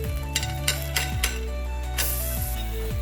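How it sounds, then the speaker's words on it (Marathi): Rasoli, a gram-flour dish, is loosened and sautéed in an oiled pan, with scattered scraping taps of a spatula over a low sizzle and a steady background hum. "आता आपण ही रासोळी हळूच चारी बाजूनी सैल करून घेऊया आणि सावकाशपणे आपल्याला आता ही रासोळी जी आहे ती परतून घ्यायची आहे।"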